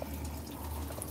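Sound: water flowing from a water setup

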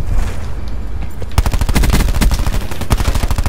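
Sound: gunfire from a weapon in Black Ops 4 video game

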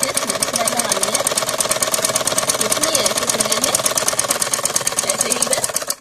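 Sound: sewing machine stitching salwar fabric

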